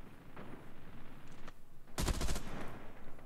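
Gunfire from the mobile shooter Call of Duty Mobile, with a faint spray of shots early, then a loud, dense burst of rapid automatic fire around the middle to end, over a steady game background.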